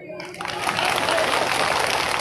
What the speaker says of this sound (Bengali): ওনাদের জন্য একটা করতালি দেবেন